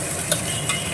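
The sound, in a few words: onions frying and being stirred in a pan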